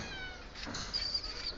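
A cat meows in a short, moderately loud call with a faint bird chirp nearby, heard outdoors among backyard birds including sparrows and pigeons.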